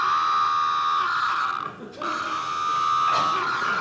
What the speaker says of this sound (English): And a high alarm, which sounds like this.